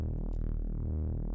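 A pair of sawtooth synth oscillators detuned apart, sustaining a thick buzzy tone with audible beating and phasing for just over a second, alone and steady in level.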